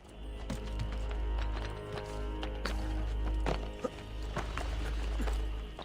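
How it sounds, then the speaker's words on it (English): Hooves clop in an irregular, quick rhythm in Assassin's Creed Brotherhood gameplay, over a steady low hum and busy background noise, moderately close. "Jumped on a horse."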